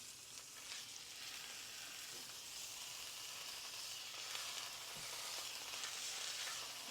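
Beef silverside joint searing in a very hot pan, giving a steady, close sizzle and crackle of frying that runs unbroken throughout, with no talking.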